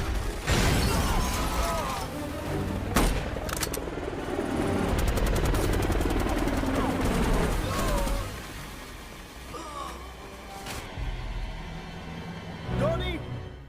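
A film battle against an enemy helicopter brings loud bursts of gunfire and sharp impacts over a rumbling rotor and dense action noise, while a narrator talks throughout.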